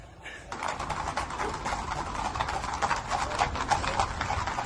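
Horses' hooves clip-clop in a dense, continuous clatter as Russian police and soldiers run past during unrest in Dagestan, the rapid hoofbeats steady and fairly loud over a busy street background.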